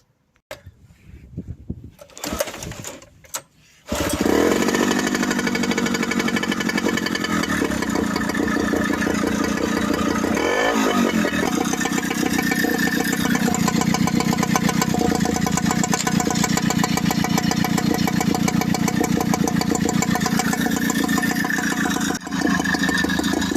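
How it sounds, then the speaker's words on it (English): A few clattering pulls and sputters, then a 1980 Yamaha 3.5hp air-cooled outboard motor catches and idles steadily, with a brief rev midway, loud and close. "I've got to see if it will do a start as it stands."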